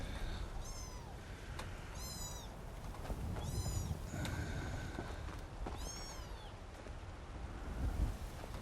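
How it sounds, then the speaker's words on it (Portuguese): A cat in Skyrim gives several rising, wavering meows spread across the stretch, set over a steady low background rumble, with no talking over them. "Para de miar, gato."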